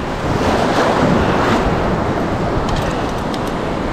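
Ocean surf breaks and washes up on a beach while surf fishing, a loud, rushing roar swelling then easing, with gusts of wind buffeting the microphone.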